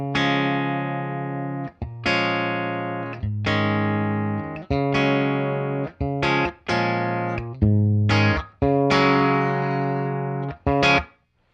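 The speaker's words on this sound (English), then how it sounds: "here is just a clean tone with no reverb at all." Clean electric guitar chords strummed one after another, each ringing out briefly and then cut off dry, with no echo trailing behind.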